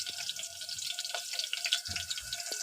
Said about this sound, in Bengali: এবার মাংসটা ধুয়ে নিচ্ছি।